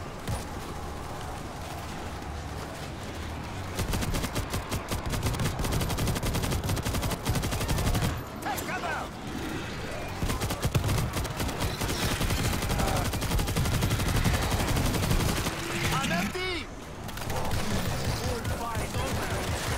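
Sustained automatic gunfire in the zombie shooter World War Z, rapid rattling bursts from several weapons that barely pause for twenty seconds, loud and close, with occasional voices underneath.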